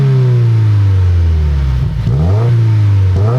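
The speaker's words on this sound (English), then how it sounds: "this WRX is equipped with an NVIDIA N1 catback exhaust" A 2017 Subaru WRX Limited fitted with an Invidia N1 catback exhaust, revved loud and close, its engine note rising and falling through several swells with no one speaking.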